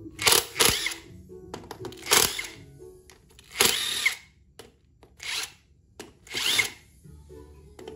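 An electric power tool spins out the cover bolts on a Honda motorcycle engine (Grand, Prima, Supra or Win 100) in short whirring bursts, each a second or less, separated by pauses with faint clinks of metal parts.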